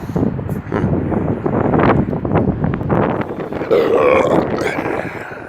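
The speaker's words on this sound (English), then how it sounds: "Excuse me, that was a bad one. I don't usually burp like this." A man outdoors in a plaza lets out a long, loud, rumbling burp close to the microphone, with wind noise underneath.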